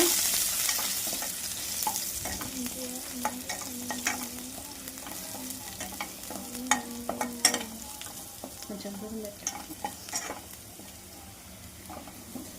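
Chopped vegetables stir-frying in a pan, with a steady sizzle and frequent scraping, clinking stirring strokes, close by and with no talking.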